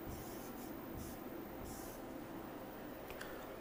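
A pen scratches out a maths expression on a surface in a JEE maths lesson, a faint steady scribbling with a few brief brighter strokes over a soft constant background hiss.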